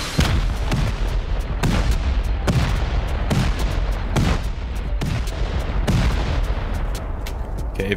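Repeated C4 and rocket explosions blasting a bunker in the video game Rust, a rapid string of loud, sharp booms about every half second for eight seconds with no talking.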